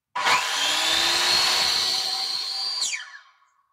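A small 230-volt electric saw runs for nearly three seconds with a steady high-pitched whine and buzzing motor drone, then winds down as it is switched off.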